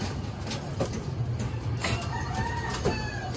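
Breeder hens and chicks clucking and peeping in a backyard coop, a rooster crowing nearby, steady close chatter of poultry with no talk.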